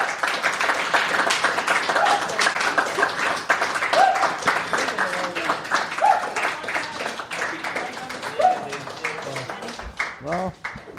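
An audience at a storytelling event keeps clapping steadily as they are urged to applaud continuously, a dense rhythmic patter with a voice speaking over it.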